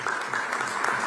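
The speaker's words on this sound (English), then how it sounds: "Let's give a big round of applause" Audience applause at a leadership gathering of academia, industry and government figures, a dense steady clapping that fills the whole moment with no voices over it.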